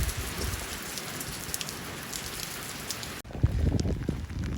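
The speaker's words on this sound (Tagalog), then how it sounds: "Ang biglang umulan." Rain starts suddenly and pours down steadily, a dense close hiss of drops striking surfaces, with a brief sharper shift in tone near the end and no one speaking.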